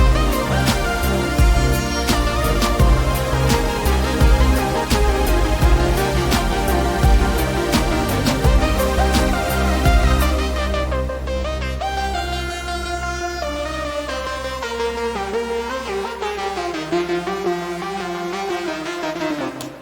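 Dense layered Thor synthesizer sounds in Reason, with steady pulsing rhythmic hits and sustained detuned tones that shift partway through into a smoother, drifting pad texture, continuous and fairly loud.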